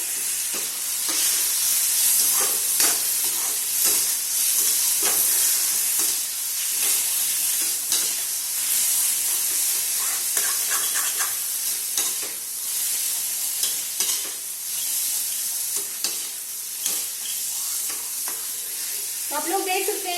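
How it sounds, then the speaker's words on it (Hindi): A spoon stirs salted potato samosa filling in a pan, with a loud continuous sizzle and fry hiss throughout and repeated scraping strokes along the pan. "हम इसको अच्छे से चला लेंगे।"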